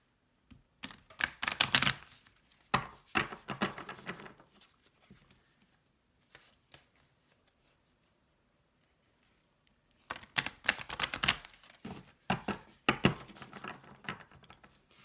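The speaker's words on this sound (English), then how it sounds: "So hard to shuffle." A deck of tarot cards is shuffled close up in rapid papery flurries, two long stretches of riffling split by several seconds of near silence.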